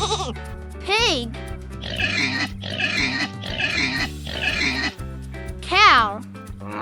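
A pig grunts and squeals in a run of loud, rough bursts over a playful children's music backing, with sliding musical swoops at the start and end.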